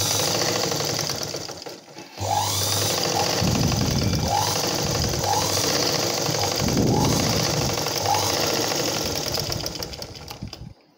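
Sewing machine stitching blouse fabric, a fast steady mechanical chatter close up with brief pauses and restarts.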